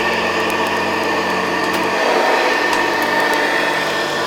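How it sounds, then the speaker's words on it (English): A 1974 Hoover Custom Convertible Model 4007 upright vacuum cleaner runs with a loud, steady motor whine and airflow roar, its low tone shifting slightly partway through, close and constant with no talking. "let's do a bit of vacuuming."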